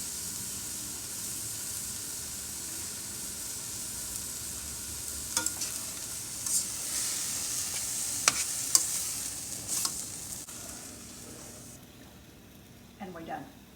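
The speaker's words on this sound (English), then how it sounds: "And our shrimp is going back in." Shrimp, egg and cauliflower rice sizzle and hiss in a hot pan for an Asian stir-fry, a steady frying sound with scattered scraping and stirring clatters, close and fairly loud.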